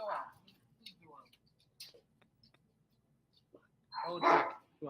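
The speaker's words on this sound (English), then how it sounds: "I don't care that other dogs are barking." Dogs barking indoors, a few short, fairly faint barks scattered between quiet gaps, with a louder burst near the end mixed with a person talking.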